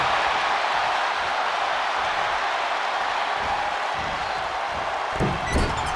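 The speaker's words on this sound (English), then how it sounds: "Listen to this crowd." Large wrestling arena crowd roaring and cheering in a steady, dense wash of noise, with a few louder bursts near the end.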